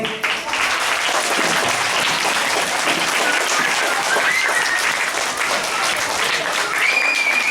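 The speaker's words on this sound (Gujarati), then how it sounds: "ભાઈ તાળીઓ રોકાવી ના જોઈએ." A crowd claps loudly and steadily throughout, a dense sustained applause with a few faint whistles near the end.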